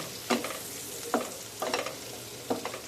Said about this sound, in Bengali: বাটারটা খুব ভালো করে গরম হয়ে গেলে এতে আমি দিয়ে দেবো কেটে রাখা টমেটো আর পেঁয়াজগুলো এবার একটু হালকা করে একটু নাড়াচাড়া করে নিচ্ছি